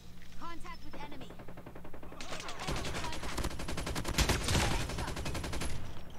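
Heavy automatic gunfire in COD Mobile, a loud continuous burst of rapid shots following a stretch of talking.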